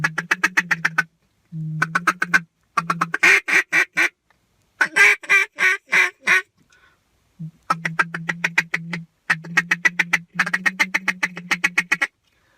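A handheld duck call blown by a person imitates duck quacks in rhythmic bursts of loud, nasal, close quacks, some rapid and clipped, others longer and drawn out, separated by brief pauses.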